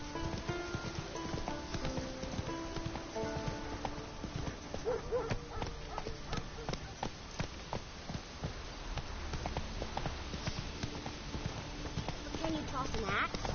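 Roach's hooves clip-clop at a steady walking pace in the Witcher 3 video game, quiet rhythmic thuds under background music and occasional talking.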